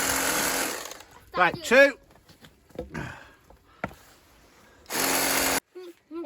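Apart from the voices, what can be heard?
battery-powered bladed power tool running, battery weakening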